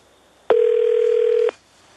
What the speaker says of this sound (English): Let's go ahead and call the Department of Homeland Security